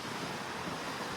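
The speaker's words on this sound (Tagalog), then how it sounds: "Lakas ng hangin, no? Sobrang lakas." Strong wind buffets the microphone on a cruise ship deck near lifeboats at sea, a brief, steady broadband roar mixed with ocean wash, loud and continuous without speech.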